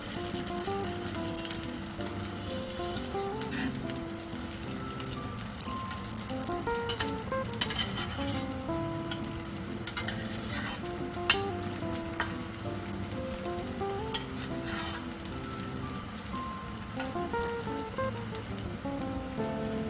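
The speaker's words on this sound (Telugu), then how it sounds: "మీడియం ఫ్లేమ్లో పెట్టి కాల్చుకోవాలండి." A homemade kids' snack fries in a pan over a medium flame, giving a continuous close sizzle scattered with small sharp pops and crackles.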